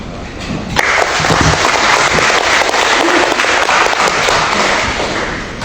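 Audience applause during a regent's speech in a formal hall in Ketapang, breaking out abruptly after a quiet start and continuing as a dense, loud wash of clapping to the end.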